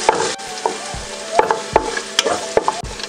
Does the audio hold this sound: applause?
no